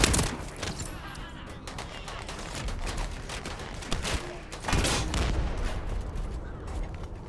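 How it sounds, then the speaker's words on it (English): Rapid bursts of machine gun fire ring out in The First Descendant, dense and loud, with a few heavier impacts and a short pause between volleys. "Dude, this little machine gun is crazy."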